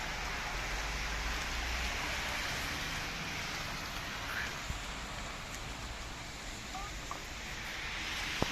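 Steady rain falls in Manchester beside a car park, a dense, even hiss that carries on without a break, with a few faint taps and distant traffic-like rumble underneath and no voices.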